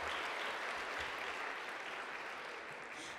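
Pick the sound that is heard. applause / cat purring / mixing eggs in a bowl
applause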